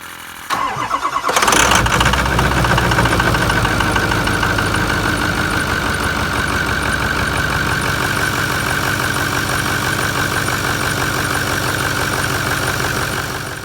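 A truck engine treated with Rev X additive in the fuel and oil cranks briefly, catches, then settles into a loud, steady idle with a faint knocking rattle, close and alone without talk.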